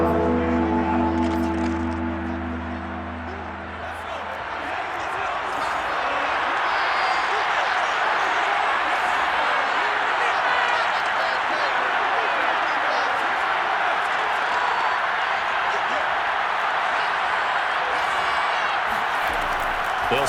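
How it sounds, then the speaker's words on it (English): Stadium crowd in the Madden NFL 22 video game roars steadily ahead of a big third down against the Colts, a broad sustained cheer building after a brief dip and holding loud to the end. "The crowd getting into it as we come up on a big 3rd down."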